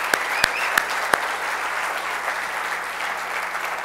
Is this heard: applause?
yes